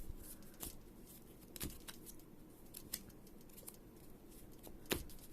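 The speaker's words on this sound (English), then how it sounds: "I'm going to just shuffle by cutting a few times to save time" Pokemon TCG cards are shuffled by cutting the deck, giving sharp papery snaps and flicks spaced irregularly over a quiet background, fairly faint and close.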